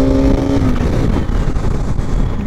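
A motorbike engine roars steadily at high power on an open road, a loud, close, continuous drone that fills the moment, with a voice briefly heard at the start.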